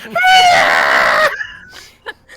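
A voice mimics an angry magic sword with one long, loud, ear-splitting scream, strained and harmonic, cutting off abruptly and followed by faint breathy sounds.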